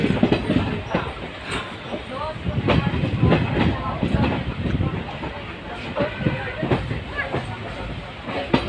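The Jat Adi Express train running between Pathankot and Bathinda, a continuous rattling rumble with repeated clacks and hiss, close up as if from aboard, with music or voices faintly underneath.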